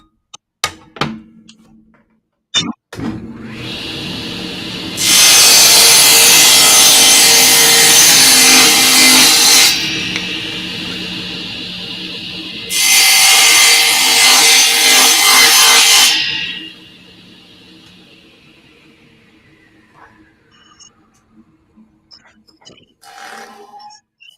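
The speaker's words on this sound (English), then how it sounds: "I've been running the saw for years" Mini table saw cutting wood: two loud bursts of high whining blade noise as it bites through the stock, with quieter motor spin-down and knocks around them.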